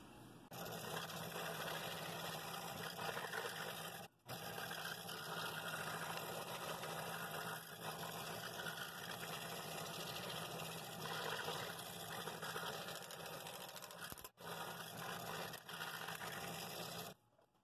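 Scroll saw cutting the lid and lip of a wooden jewelry box, a steady continuous buzzing drone that runs almost unbroken with two brief pauses, faint and without talk.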